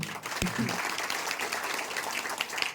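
An audience claps at a ceremony in Pasalapudi, a steady wash of applause with a few sharper hand claps standing out near the start and toward the end.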